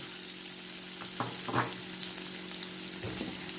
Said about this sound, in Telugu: ఈ ఉల్లిపాయలు వేయించుకోవాలి